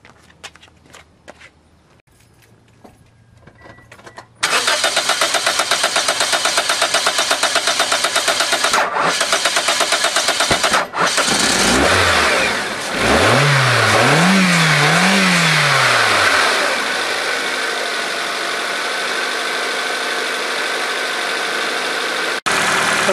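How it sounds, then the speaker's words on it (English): A 2008 Toyota Corolla engine cranks and catches after an ignition coil replacement, roaring up loudly with a couple of rising and falling revs before settling into a steady, even idle. "Now it's time to test it to see if I can start the engine."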